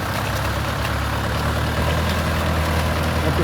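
A tractor engine idles in the middle of a farm field, a steady, loud, low rumble that stays constant throughout.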